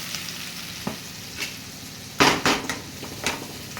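Ginger garlic paste sizzling and frying in a pan, a steady crackle broken by several sharp scraping and stirring clatters of a utensil against the metal near the end, with no talking.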